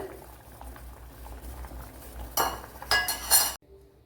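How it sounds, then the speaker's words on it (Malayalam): Cauliflower boiling in water in a cooking pot gives a steady, close bubbling hiss, then a few louder clinks and scrapes of a utensil against the pot before the sound cuts off abruptly. "പിന്നെ നമ്മുടെ കോളിഫ്ലവർ ഇവിടെ തിളപ്പിച്ചെടുത്തിട്ടുണ്ട്."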